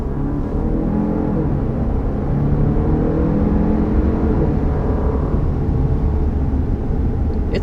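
A 2022 Jeep Grand Cherokee 4xe plug-in hybrid SUV accelerates with a steady, loud whir and broadband road and engine noise that holds evenly throughout, with no talking.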